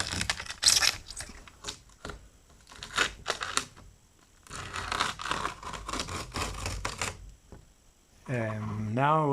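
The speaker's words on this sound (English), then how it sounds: "But let's take this aluminum tape off." Aluminum tape is peeled and torn off the front bumper of a Renault 5 GT Turbo in a string of close, crackly ripping bursts with pauses, ending in a brief tonal squeak, and no talking.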